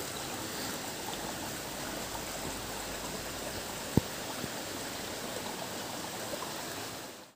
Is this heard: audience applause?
no